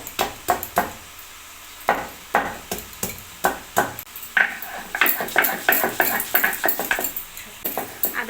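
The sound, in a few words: grinding spices such as ginger into paste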